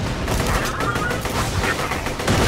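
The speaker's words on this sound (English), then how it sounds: "this rocket launcher's fun" Rocket launcher fire in the Borderlands video game, a loud dense burst of blasts and explosive rumble across a short stretch, ending in a fresh heavy hit, with no one talking.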